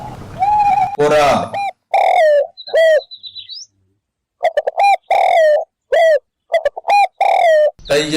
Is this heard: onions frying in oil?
no